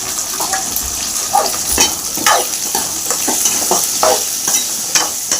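Small onions and curry leaves sauté in a pan for egg curry with a close, continuous sizzle. A spoon scrapes and stirs in irregular strokes over the frying.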